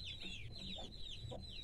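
Hens cluck softly inside a chicken coop on a wooded garden property, with repeated low clucks under high, descending bird chirps, all faint and steady.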